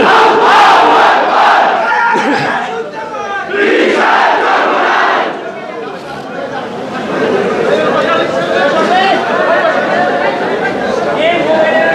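A large rally crowd shouts the takbir response in loud, massed unison, in roaring waves that swell, fade and return over several seconds, with a lead voice calling between them.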